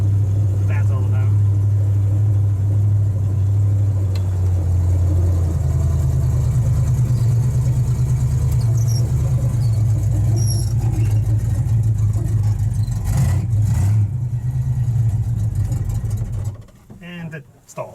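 A Ford Ranchero's engine runs loud and rough, rising and falling in revs as it strains to keep going, then cuts out abruptly near the end as it stalls; a voice talks faintly beneath.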